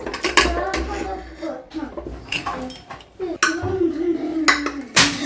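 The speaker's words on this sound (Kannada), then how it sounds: "ಈಗ ಓಪನ್ ಮಾಡಿ ನೋಡೋಣ ಲಿಡ್ಡು" A pressure cooker lid being opened after a single whistle, with metallic clanks and clinks of the lid and pot at close range among scattered kitchen clatter, ending in a sharp metal knock.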